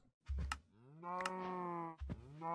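Cows lowing in Minecraft's Stoneblock 2 modpack: two or three drawn-out, nasal game moos in quick succession, clear and fairly loud, with soft clicks at each onset and no talking.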